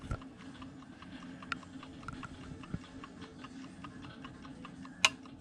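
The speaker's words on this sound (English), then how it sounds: "you hear this click in the dash, and it's your clock rewinding" Dashboard clock in a 1967 Chevelle ticking softly in a quiet car interior, with a faint steady tick-tock and a sharper, brief rewinding click near the end.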